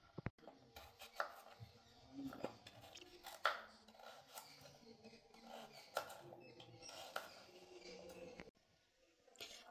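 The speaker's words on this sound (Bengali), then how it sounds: "এবার আমি গাজরগুলো কেটে নেব।" A knife cuts peeled carrots for carrot halwa on a board in a home kitchen, making quiet, irregular chopping taps and scrapes close up that stop abruptly near the end.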